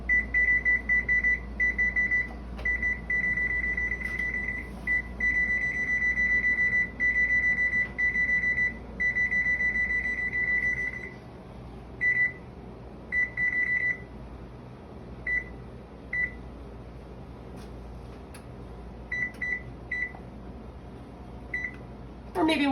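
Kitchen timer beeps repeatedly in quick bursts while being set for baking keto almond-flour pumpkin bread, the bright electronic tones running steadily and then breaking into shorter intermittent groups over a constant low appliance hum.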